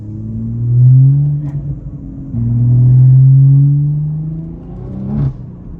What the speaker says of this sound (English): the exhaust system on this car isn't standard, so it does sound pretty damn good